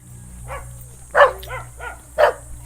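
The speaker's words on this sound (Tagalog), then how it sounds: "Daming aso, grabe." Several dogs bark in short, uneven bursts along a narrow village road, two louder barks standing out near the listener while others sound softer, over a steady low background hum.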